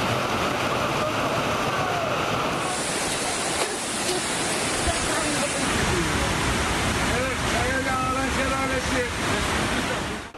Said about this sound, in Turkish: Caddeler, sokaklar sular altında kaldı.